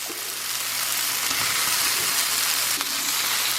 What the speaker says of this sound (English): I will now add the tamales.